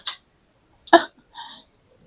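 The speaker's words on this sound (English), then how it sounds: "I'm burping." A man burps in a few short, abrupt bursts spaced apart in an otherwise quiet room, with no speech.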